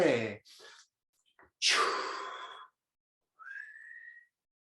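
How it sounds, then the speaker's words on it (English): A person doing the qigong 'chue' healing sound: several breathy exhalations and a hissing breath out, ending with a short whistling tone, all close and isolated with quiet gaps between. "Exhale with the sound chue."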